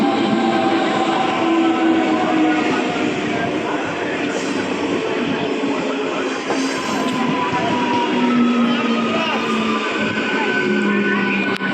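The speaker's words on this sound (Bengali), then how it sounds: "ট্রেন চলে এসেছে এবার এই ট্রেনে করে আমরা দেউলটি যাব" A train arriving at a station rumbles loudly and continuously nearby, a dense roar of wheels and carriages with faint horn-like tones drifting through.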